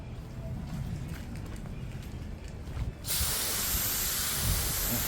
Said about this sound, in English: Let's give her a little hose down.